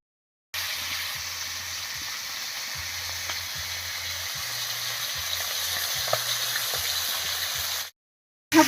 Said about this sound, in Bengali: সবগুলো মাছ ভাজা হয়ে গেছে একবারে নামিয়ে নিচ্ছি